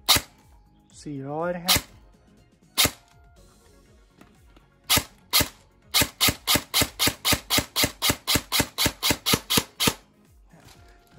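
An ARES Amoeba AM-013 electric airsoft gun fires on semi-auto: a few single sharp cracks, then a fast, even string of about fifteen close, loud shots. Someone speaks briefly near the start.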